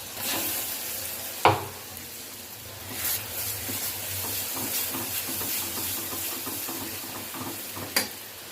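Ground masala paste frying in a pan while curry for tari is being made, giving a steady close sizzle with stirring scrapes and a few sharp clinks of the spoon against the pan.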